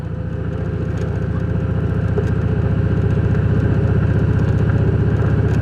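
Car rolling slowly along a gravel rustic road at about 25 mph, a loud steady engine drone blended with a constant rough hiss of tires on loose pebbly stones.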